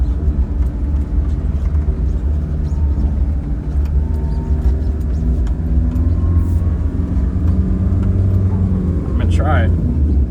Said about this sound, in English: Let's see if we can get to second gear as I videotape here.